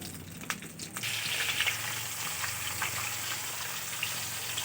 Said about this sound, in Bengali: এখন আর কিছুক্ষণ ফুটিয়ে নেবো